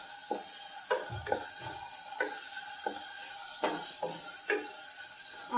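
Chopped onion with a pinch of salt sautés in a pan for one-pot pav bhaji, a steady close sizzle broken by repeated scraping stir strokes roughly every half second to second, with no talking.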